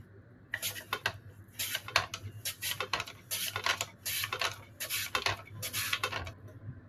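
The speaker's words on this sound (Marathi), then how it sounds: "आता आपण असा उभा बटाटा धरून त्याचे पातळ असे काप करून घेणार आहे" Potatoes are cut into thin slices on a handheld slicer set to its finest setting, giving repeated crisp scraping strokes in an uneven rhythm, close and moderately loud, with a low steady hum underneath.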